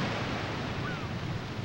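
Ocean waves wash in the Giftpia video game, making a brief, steady surf hiss with a slight swell at the end and no talking.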